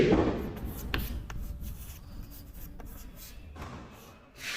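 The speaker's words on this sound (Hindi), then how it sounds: "मैं कुछ आपके सामने बोर्ड के ऊपर मुज़क्कर अल्फाज लिखता हूं" A teacher writes Urdu words on a classroom board, producing close scratchy rubbing strokes with a few sharp taps between them, steady and moderately loud, with no voice.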